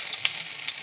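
Dry red chili, white cumin and ginger fry in hot oil in a wok, giving a bright, steady sizzle with a couple of sharper pops.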